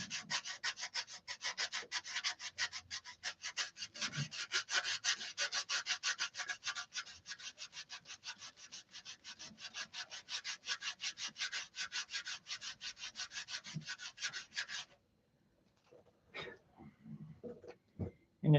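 Hand sanding of a thin molded part, a steady run of fast rasping strokes for about fifteen seconds before it stops, followed by a few scattered knocks and handling sounds.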